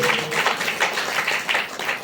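An audience at a gathering bursts into enthusiastic applause, a dense run of many hands clapping close by with rhythmic surges and no voices over it.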